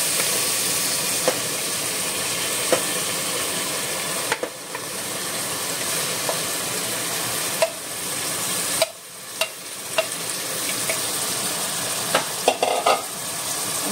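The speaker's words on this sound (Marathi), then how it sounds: "आता हांव ऍड करता हे मॅरिनेटेड मटन" Marinated mutton frying in a hot pan, a steady loud sizzle with occasional stirring scrapes and clinks, no talking.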